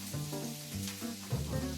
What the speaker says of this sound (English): And you can hear that little sizzle.